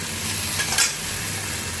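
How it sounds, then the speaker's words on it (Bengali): Potatoes fry in a pan while being stirred, a dense close sizzle with a brief scrape of the spoon midway through. "আলুটা মোটামুটি ভাজা হয়ে গিয়েছে।"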